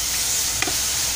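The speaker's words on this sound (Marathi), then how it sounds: "आता मी पेस्ट आपण घालूया आता भाजीमध्ये" Ground spice paste drops into a pan of frying tender jackfruit vegetable, giving a brief soft stir-and-plop over a steady close sizzle.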